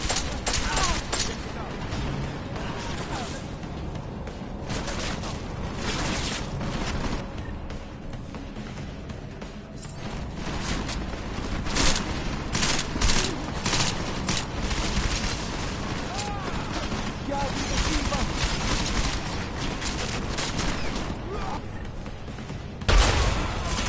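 Rapid bursts of gunfire and booming shots in the video game Deus Ex, dense and continuous throughout, with voices talking over the shooting.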